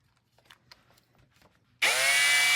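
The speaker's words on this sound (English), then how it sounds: "just a cone onto a drill" After a few faint scrapes and taps, a power drill fitted with a polishing cone suddenly starts up with a loud, steady high-pitched whine while polishing a metal wheel.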